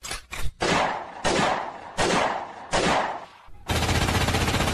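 Rapid bursts of gunfire from a sound effect, with several loud sharp volleys separated by brief pauses, ending in a sustained dense rattle like continuous machine-gun fire.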